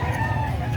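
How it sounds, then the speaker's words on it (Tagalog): A chicken crows or clucks briefly at a livestock market in San Carlos City, a single short close call over a low market hum. "Yan, manok ni sir."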